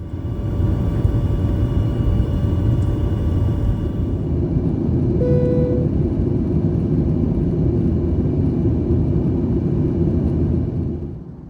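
Steady, loud low rumble of a United Boeing 737 airliner cabin while cruising at 28,000 feet, with a brief faint tone partway through and no talking.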